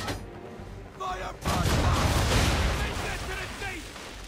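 Ship cannons roar in Assassin's Creed 3 during a naval battle: a dense, sustained volley of heavy booms that rumbles loudly for several seconds after a brief quieter lead-in, with a voice faintly heard early on.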